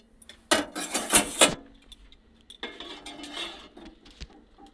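A metal lid clanks and rattles as it comes off a pot in which a homemade nolen gur fruit cake with cashews has baked for 45 minutes. A quick cluster of close clatters is followed by softer scraping metal rattles.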